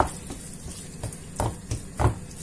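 Crumbled minced meat stirred in a pan with a little water while cooking down for spinach lasagne, giving a few soft scraping, clattering strokes with a low sizzle underneath.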